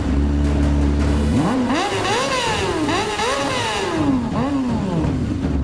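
A car engine revving hard through rising and falling gear-change sweeps as it is driven fast. The sound is loud and close with no talking over it.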